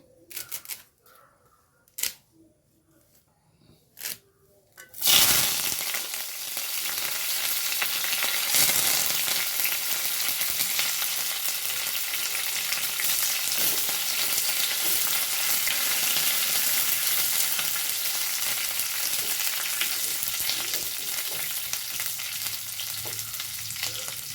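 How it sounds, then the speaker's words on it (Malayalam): Curry leaves drop into hot oil for chicken kondattam. A few sharp handling clicks come first, then a loud, steady hiss and crackle of sizzling carries on without talk. "ഇനി ഞാൻ ഇതിലേക്ക് കരിവേപ്പിലയാണ് ഇട്ട് പൊരിച്ചെടുക്കുന്നത്"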